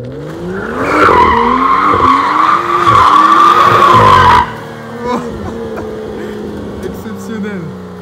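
A BMW M2 F87 LCI drifts, its tires squealing loudly for several seconds over a revving engine before the screech cuts off, leaving the engine burbling and shifting while someone speaks excitedly in French.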